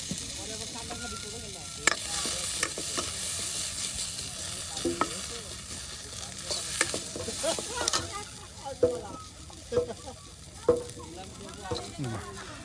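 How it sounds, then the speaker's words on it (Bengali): Onion and garlic fry together in oil in an outdoor Bangladeshi cooking setting, a steady close sizzle with scattered pops, crackles and stirring scrapes running throughout. "এর জন্য কিন্তু আবারও সে আগের মতো পেঁয়াজ রসুন সব একসাথে তেলে ভেজে নেওয়া হচ্ছে।"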